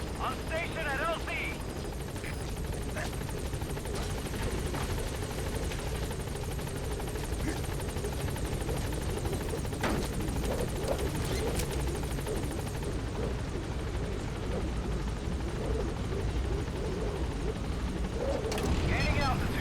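Pequod helicopter arriving at the landing zone in Metal Gear Solid V: The Phantom Pain, a loud continuous rotor drone with deep rumble throughout, a voice speaking over it and occasional sharp bangs.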